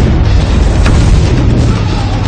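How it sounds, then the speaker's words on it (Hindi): Cannon barrage during a naval attack on the Ottoman fleet in the Golden Horn, a sustained, loud, rumbling boom with dense low-end roar filling the whole stretch and no voices. "उनका सामना हुआ तोपों के हमले की बौछार से।"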